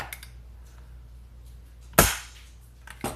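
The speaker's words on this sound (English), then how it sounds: "Rifle fires." An SKS rifle fires a single sharp, loud shot with a brief echo tail, preceded by quiet handling and followed by a smaller click or clack near the end.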